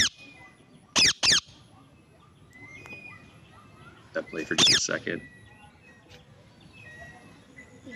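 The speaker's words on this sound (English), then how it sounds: "It's kind of this shrill chirp" Two sharp, shrill chirps from an invasive bird species on Maui ring out early, then a louder burst of several chirps follows, over quiet background with faint talk.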